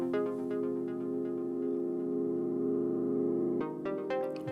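Sustained chords from an Elektron Digitone synth swell slowly in volume under LFO modulation, forming a steady harmonic pad that shifts to a new chord near the end, with no voices.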